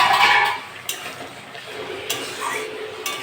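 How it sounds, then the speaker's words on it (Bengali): A lid comes off a cooking pan holding a pumpkin stem and potato curry, with a few sharp metallic clinks and a soft scrape, close and fairly quiet, against a faint kitchen hiss. "ঢাকাটা খুলে নেব"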